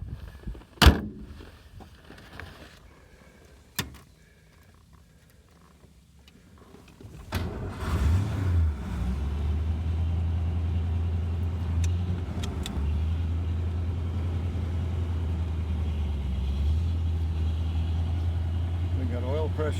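A 1932 Cadillac 355B convertible, a big heavy car, fires up after a couple of clicks and settles into a steady, loud, deep idle that rumbles on close by.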